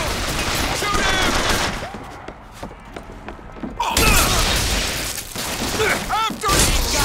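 Gunfire in the shooter game Bioshock Infinite: bursts of rapid shots and thumps, loud and close, with a quieter lull in the middle before the shooting resumes, over game effects and a voice speaking.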